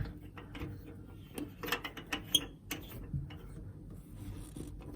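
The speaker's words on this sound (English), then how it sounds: "The next step is to thread this, what they call a hose guide, onto the next one" Kitchen sink faucet hose guide being threaded on by hand, giving a run of small clicking, ratcheting and rubbing sounds, close and fairly quiet, with irregular sharper ticks and no talking.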